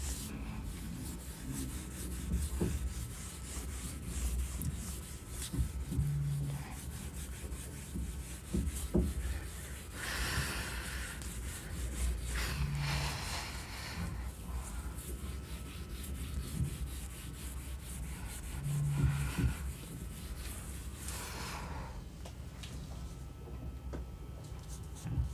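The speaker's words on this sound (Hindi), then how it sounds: "चलो रब कर देता हूँ मैं इसको।" A duster rubs writing off a classroom board during a maths lesson, giving a long steady scratchy swishing with repeated strokes, close and moderately loud, with no talk.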